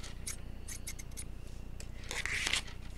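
A pair of Westcott scissors is handled, giving several short metallic snips and clicks followed by a brief scraping rub, quiet and close with no talking.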